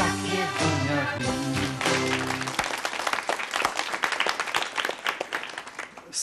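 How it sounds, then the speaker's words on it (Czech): Music from a children's song performance ends, then an audience bursts into applause, clapping rising to a loud, steady patter that carries on to the end. "seno pro králíky a potlesk pro nás"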